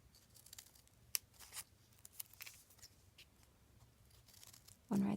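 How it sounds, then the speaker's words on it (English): Scissors snipping folded paper while cutting a paper snowflake, a few quiet, sparse snips and crinkles, the last one louder and close. "Next, I will cut along this side."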